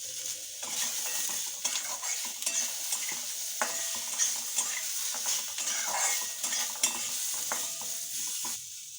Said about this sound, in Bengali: আর দেব কিছুটা কাজু বাদাম। এটা ভালো করে একটু নেড়ে নেব।